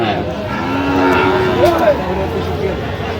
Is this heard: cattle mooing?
yes